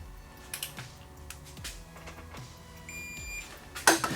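Several short clicks and mechanical thumps, then a brief high-pitched electronic beep near the end, followed by a sharp clatter.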